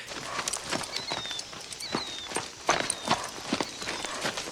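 A horse ridden in a film scene, its hooves clip-clopping in a steady walking rhythm, moderately loud with light background ambience.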